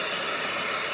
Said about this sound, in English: He's watching the hairdryer.